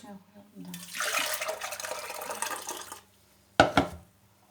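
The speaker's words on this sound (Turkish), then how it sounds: "2 saat kadar bekletmiş olduğumuz limonatamızı şimdi süzelim." Homemade lemonade poured through a fine strainer makes a steady, moderately loud splashing stream for about two seconds, then stops, followed by a short sharp splash and clink near the end.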